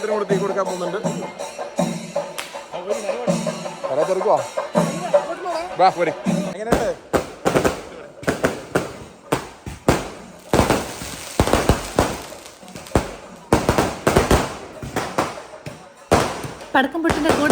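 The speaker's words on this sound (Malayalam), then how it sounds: "പടക്കം പൊട്ടിന്റെ ഇവിടെ" Rapid bursts of firecrackers crackling and popping in irregular volleys, loud and close, following a stretch of crowd chatter and voices, at an Arattu festival at a Subrahmanya Swamy temple in Kerala.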